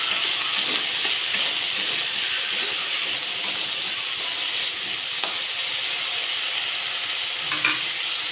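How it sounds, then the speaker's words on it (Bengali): Potato pieces fry with onions in a pan, making a continuous hissing sizzle close by, with soft scrapes and taps of stirring now and then. "এরপর আলুটিকে ভেজে নেব।"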